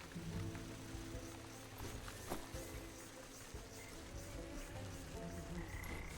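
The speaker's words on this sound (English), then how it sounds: "Okay, we got the frogs. I need a lot of frogs." Frogs croak in the Wytchwood video game, a quiet bed of layered croaks and chirps with scattered clicks and a few brief tonal calls, faint and steady throughout.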